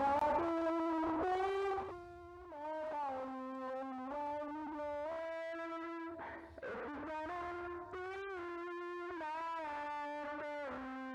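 Guitar fed through a buzzy distortion stomp effect, playing sustained, harmonically rich notes in a steady phrase with brief gaps, loud and up close with no talking.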